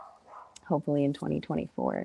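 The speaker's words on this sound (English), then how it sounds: "Sorry about my dogs." Dogs bark in short bursts indoors, several sharp, close barks overlapping with a person talking during an online workshop.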